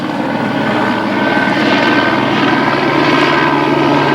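A helicopter drones steadily overhead, its low rotor thrum and engine roar loud and constant throughout, with no voices.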